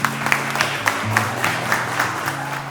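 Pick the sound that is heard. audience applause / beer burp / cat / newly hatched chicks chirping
audience applause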